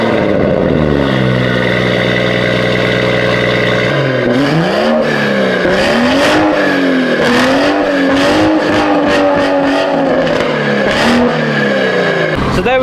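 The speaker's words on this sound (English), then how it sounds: "let's give you a few sound tests of this exhaust" A BMW M140i with carbon exhaust tips fitted is revved hard, its exhaust rising and falling through repeated loud blips with crackles between them, close and dominant throughout.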